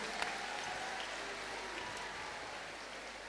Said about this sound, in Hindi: इनको जोरदार ताली बजा करके धन्यवाद दो।